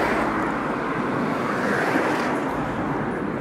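Steady broadband roar of passing road traffic, a continuous wash of car noise that swells slightly midway, moderately loud with no voices over it.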